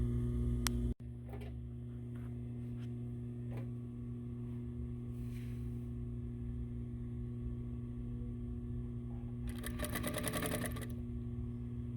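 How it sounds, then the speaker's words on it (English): A sewing machine runs steadily while stitching the corners of a fabric box cushion, a continuous mechanical hum with faint ticks and a brief rattling burst near the end, close and fairly quiet. "I'm lining up the edges and sewing the rest of the 4 corners"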